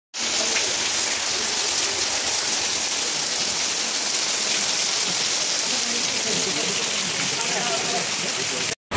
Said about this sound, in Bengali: প্লাস এখানে বৃষ্টি শুরু হয়ে গেছে, পুরো গা ভিজা